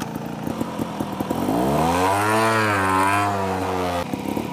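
A motorcycle pulls away from a standstill in first gear at about quarter throttle, its engine note rising smoothly in pitch as the clutch is let out, then dropping off, loud and close with no talk.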